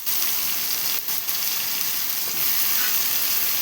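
Stuffed brinjal frying in a pan gives a steady, close, hissing sizzle that continues without pause, with no voices over it.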